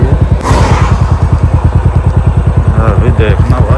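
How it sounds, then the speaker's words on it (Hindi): Motorcycle running without its full exhaust system, a steady rhythmic idle-like engine pulse throughout, close and loud, with a brief louder burst early on. "तो भाई एग्जॉस्ट का साउंड भी काफ़ी अच्छा आ रहा है विदाउट एग्जॉस्ट के।"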